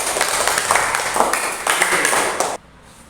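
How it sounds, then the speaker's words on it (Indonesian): A school class applauds with a dense, steady burst of hand claps lasting over two seconds, then cuts off abruptly into quiet room tone. "Tepuk tangan untuk kalian semua."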